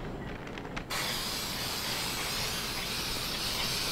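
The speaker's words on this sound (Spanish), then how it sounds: "Le vamos a echar spray a la bandeja y al papel de hornear." Release spray being sprayed onto a baking tray and baking paper, a quiet lead-in with faint knocks, then a sudden steady hiss that continues evenly to the end.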